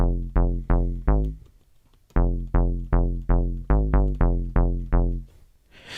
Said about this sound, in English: Another key to this sound is turning up the resonance to your liking.